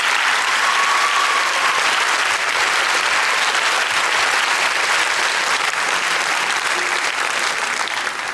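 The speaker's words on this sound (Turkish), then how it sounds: "minik yıldızlarımıza kocaman bir alkış alabilir miyiz?" Thick, continuous applause from an audience for child performers in a Turkish children's song show, loud and steady from start to finish.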